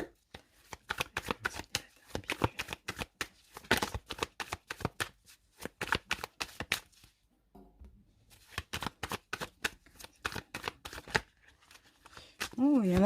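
A tarot card deck shuffled and cut close up, a rapid series of crisp riffling snaps and flicks in bursts with a short pause midway, soft and intimate.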